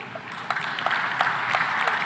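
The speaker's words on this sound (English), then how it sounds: "Please, round of applause." An audience at a formal event applauds with a dense, steady wash of clapping, fairly loud and close, with a few sharper claps standing out.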